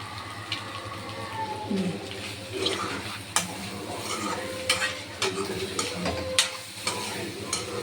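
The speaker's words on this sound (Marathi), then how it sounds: "कसं भुर्जी थोडी मिक्स करायला लागते ना" Egg bhurji, Konkani-style scrambled eggs, being stirred in a pan at home: repeated scraping and clinking of the spoon over a soft sizzle, with sharper knocks every second or so, and no talk.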